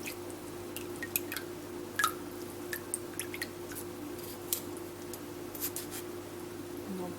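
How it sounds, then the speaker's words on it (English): Saturated dandelion flowers are pressed down by hand, squeezing liquid out: soft, wet squishing and faint drips scattered over a steady low background, close and quiet, with no speech. "I'm just going to press down on this, and you can see all the liquid that's still coming out of it."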